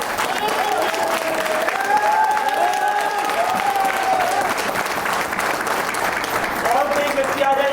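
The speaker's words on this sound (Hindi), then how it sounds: "जोरदार तालियां बजा लीजिए आप" Loud, steady applause from a crowd fills the whole clip, with a few voices calling out over the clapping.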